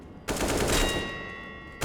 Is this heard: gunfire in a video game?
yes